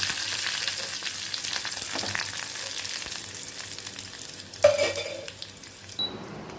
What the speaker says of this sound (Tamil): இப்போ வேக வச்சு வச்சுருக்கிற சாம்பாரோட இப்போ வந்து தாளித்து கொட்ட வேண்டியதான்.